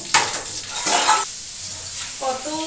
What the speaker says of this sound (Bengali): ফাইনালি আমি বাসনগুলোকে এখন ধুয়ে নিচ্ছি